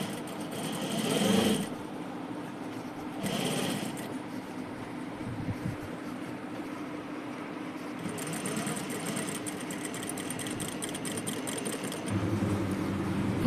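Sewing machine stitching a folded length of cloth for blouse dress tassels, running in steady mechanical bursts with brief pauses, close and moderately loud with no talking.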